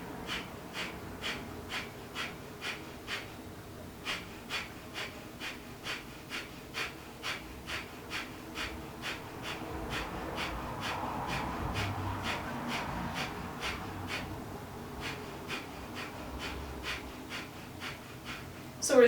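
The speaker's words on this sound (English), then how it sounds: "Take a nice deep breath in." Rhythmic breathing during a yoga breathing exercise: quick, sharp exhales repeat at a steady pace for the whole stretch, close but soft, with a gentle background hum and no speech.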